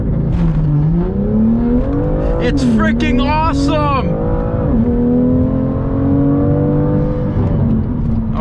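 A BMW M car engine revs and pulls through gears while driving, its pitch climbing, dropping and rising again in loud surges as someone talks excitedly over it.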